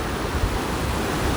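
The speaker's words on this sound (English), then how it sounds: "did you hear the sound of the water?" A high-tide river rushes near Takawaka Falls, a steady loud broadband roar of flowing water that stays unbroken and close throughout, with no voices.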